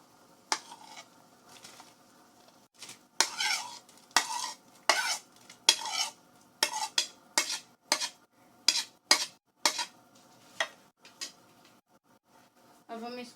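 Chicken corn soup with softened corn, peas and shredded chicken being stirred in a pot, giving a dozen or so close, rhythmic scraping strokes of a spoon against the metal with brief pauses between them.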